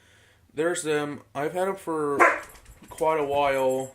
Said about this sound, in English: That was just my dog over there.